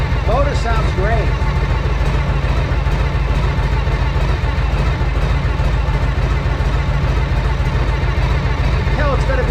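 A 1976 Harley-Davidson FLH motorcycle engine, freshly restored, runs steadily at close range, a continuous low rumble with a slight surge, while people talk over it throughout.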